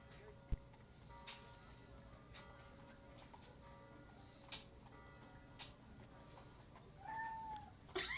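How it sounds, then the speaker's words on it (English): A stray cat meows a couple of times, fairly close, over a quiet room with faint ticking and scattered small knocks and clicks. "cat's got stuff to say about it."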